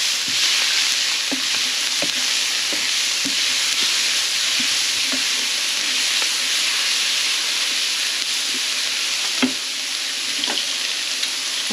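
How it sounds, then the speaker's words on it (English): Vegetables saute in a hot pan for potato lo mein, giving a loud, continuous sizzle and steamy hiss with occasional stirring clicks and scrapes throughout, with no one talking. "now we can remove the noodles and saute our veggie."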